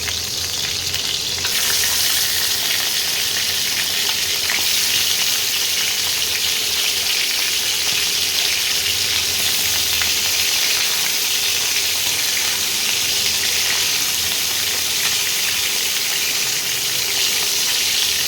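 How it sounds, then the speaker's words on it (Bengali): Pieces of chicken, salted and coated with lemon, fry in hot oil in a frying pan with a loud, steady, close sizzle that carries on without a break and with no voices. "এইটা মাংসগুলো অল্প করে একটু ফ্রাই করে নেব।"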